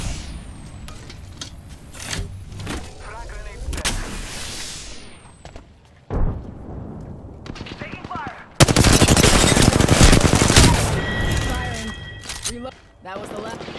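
Video game firefight with rattling machine-gun bursts and single shots, loud and close at times, alongside mechanical rumble and effects, with voices speaking at points.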